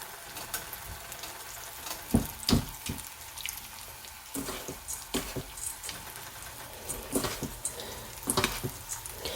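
Battered vegan fried chicken frying in hot oil, a close, steady bubbling sizzle with intermittent louder crackling bursts and spatters, no talking.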